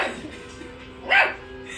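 One short bark from a puppy rises out of a quiet indoor background, near and moderately loud, with nothing else happening before or after.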